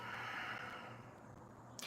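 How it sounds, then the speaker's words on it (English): A slow exhale through the nose after breathing in, a soft breathy rush that fades gradually, faint and close, with a brief sniff at the end. "And then exhaling through your nose."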